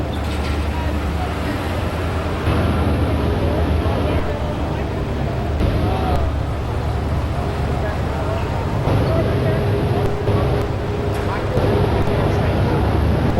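A super stock tractor engine roars at a Louisville tractor pull, a steady, broad mechanical drone that fills the whole stretch while an announcer talks over it.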